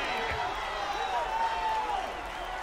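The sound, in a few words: arena crowd cheering at NBA 2K League esports match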